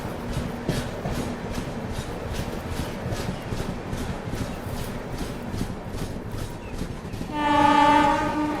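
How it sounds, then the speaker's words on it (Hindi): A train rolls into Kalyan railway station, its steady rumble and rhythmic clicking wheels carrying on throughout before a loud horn blares near the end. "कल्याण रेलवे स्टेशन अपनी गाड़ी फिलहाल पहुंच रही है"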